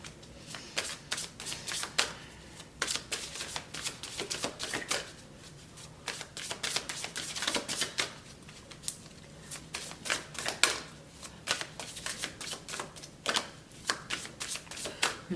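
Oracle cards from an Ancestor Oracle deck are shuffled close by in quick bursts of crisp riffling slaps, pausing briefly between rounds and continuing throughout.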